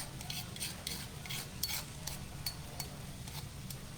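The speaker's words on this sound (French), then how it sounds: "Je mets tout mon mélange pilé." A pounded spice mixture tipped into a hot pan for a fish curry, with steady sizzling frying under repeated scraping and clinking of a utensil against the pan, close by with no talk.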